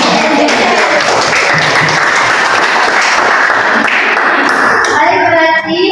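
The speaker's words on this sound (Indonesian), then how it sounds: "tepuk tangan untuk teman." A class of junior high students at a Catholic school applauding a classmate, dense continuous clapping from many hands filling the room, loud and close, easing off right at the end with a murmur of voices.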